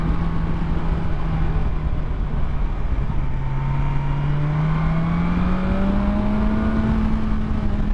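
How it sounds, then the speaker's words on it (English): A 2022 BMW S1000XR sport motorcycle accelerates smoothly through quick-shifted gears on the road, its engine tone climbing steadily under constant wind and road noise, with no speech. "if I roll on the throttle, totally smooth, and actually has a lot of torque and picks up really fast"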